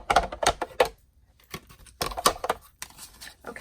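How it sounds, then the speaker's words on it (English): Big Shot die-cutting machine cutting paper pieces gives a series of close ratcheting clicks and crunching bursts in uneven clusters, with short pauses between them. "now we're going to get the Big Shot out and we're going to cut out our pieces"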